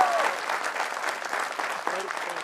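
An audience claps loudly and steadily at an Atomy India felicitation event, close and continuous, with a faint voice briefly audible underneath.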